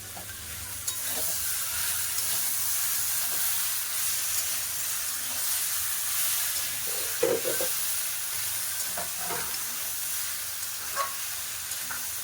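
Tomato and chili paste frying in a pan for a Bengali dal dish, a constant hissing sizzle with occasional soft stirring clicks, no voices.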